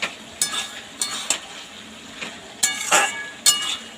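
Bottle gourd (lau) cooking in a pan is stirred, with a light sizzle and a run of scraping strokes and sharp metal clinks from the spatula, spaced irregularly and close up.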